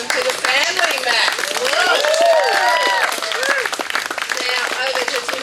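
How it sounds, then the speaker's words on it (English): Wedding guests applaud the couple, a close, lively burst of clapping mixed with cheering, whoops and overlapping voices that holds at a steady level throughout. "a big round of applause for Matt and Lee"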